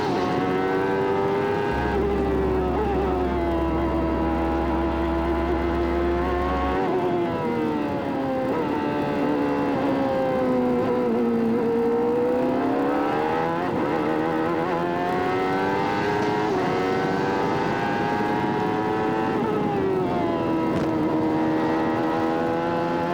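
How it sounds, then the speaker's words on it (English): Onboard sound of a 1994 CART IndyCar at Mid-Ohio, its engine screaming steadily at high revs with pitch swells through the corners, loud and close throughout. "take a look at the Ford Electronics telemetry coming off Robbie Gordon's car. And we'll just ride here for a couple minutes"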